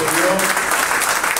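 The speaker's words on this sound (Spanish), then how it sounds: "¡Fuerte el aplauso!" An audience at a municipal ceremony in Acapulco gives loud, continuous applause throughout, with a voice speaking over the clapping.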